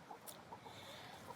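Backyard chickens cluck softly in a few quiet, rhythmic bursts, heard faint and close against low outdoor background noise.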